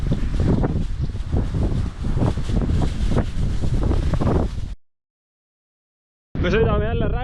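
Strong headwind buffeting the microphone in rough, continuous gusts while cycling, cutting out to silence before a brief burst of other noise.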